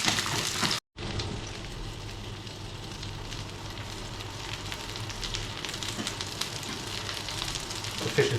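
Dorada fish sizzling in a frying pan, a steady loud crackle and hiss that cuts out for an instant near the start and then continues evenly.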